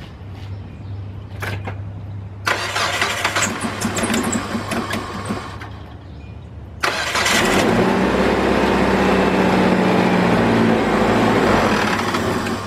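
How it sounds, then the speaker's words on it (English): A 2002 Kia Optima with a mass air flow circuit fault cranks and starts, then runs rough with an uneven, loud idle that stays steady and close by, with no talk over it. "Let's get this vehicle started."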